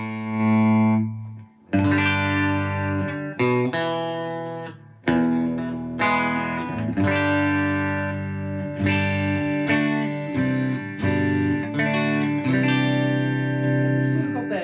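Electric guitar through a Line 6 DT50 tube amp in triode mode plays a series of strummed chords and plucked notes, warm and slightly driven, each ringing briefly before the next.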